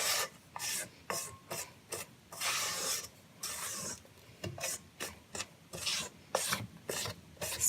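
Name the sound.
scraping the sides of a mixing bowl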